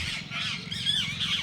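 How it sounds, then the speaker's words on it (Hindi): Parrots squawk in a banyan tree in a village, a dense burst of harsh, overlapping calls at close range with no talking. "तोते तो अभी बोल रहे हैं शायद"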